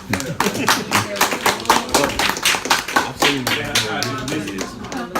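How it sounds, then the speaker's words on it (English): Hand clapping with uneven, scattered claps over about five seconds, together with voices and talk, as a youth workshop group gives a round of applause. "I'm gonna give y'all a round of applause for being so kind"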